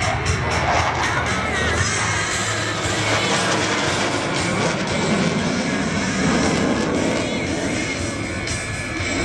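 A MiG-29N jet roars loudly and continuously as it flies a four-point aerobatic roll at an air show, engine noise filling the whole stretch with faint crowd sound beneath.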